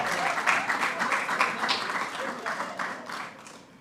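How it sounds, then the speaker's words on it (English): An audience at a post-cabinet press briefing breaks into applause, a dense burst of steady clapping from a room of people that carries for a few seconds and then begins to fade. "Give her a round of applause."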